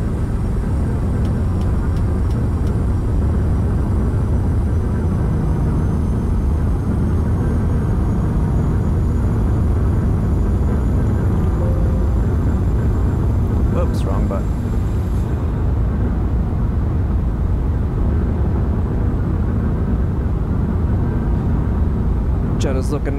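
Steady, loud broadband rumble inside an airliner cabin on landing approach into Jeddah after a flight from Bahrain, continuous throughout with a couple of faint brief clicks, and no voices in the clip.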